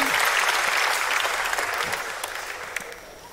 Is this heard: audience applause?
yes